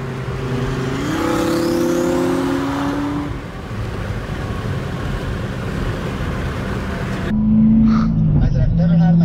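A 900hp twin-turbo R8 cruising on a highway gives a steady, loud engine and road drone throughout, with a brief dip in the middle and a sharper tonal rise near the end.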